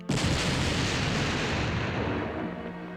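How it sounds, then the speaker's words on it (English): Massive explosion of the battleship USS Maine in Havana harbor, 1898: a sudden loud, dense boom erupts and holds as a sustained roaring rumble for about three seconds, with no voices present. "while patrolling the waters off Havana, the Maine suddenly exploded"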